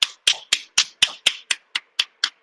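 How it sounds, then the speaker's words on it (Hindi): Loud hand clapping at close range, about eleven sharp claps in a steady, even rhythm with silence between them and no talk. "तो अपने लिए अब जोरदार ताली बजाइए"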